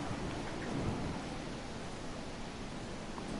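A video game thunderstorm rolls in with steady broadband rain hiss and low rumbling thunder, a heavier swell of rumble near the start, continuous and fairly loud with no one talking.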